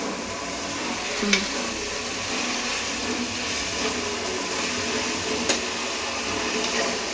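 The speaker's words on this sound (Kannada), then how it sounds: "ಇದು ಜಾಸ್ತಿ ಫ್ರೈ ಮಾಡ್ಕೊಂಬಿಡಿ, ಮೀಡಿಯಮ್ ಆಗಿ ಫ್ರೈ ಮಾಡ್ಕೊಳ್ಳಿ" Egg rice frying at medium heat in a pan gives a steady broadband sizzle throughout, with a couple of faint scrapes, moderately close and continuous.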